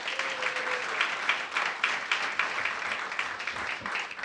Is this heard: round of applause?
yes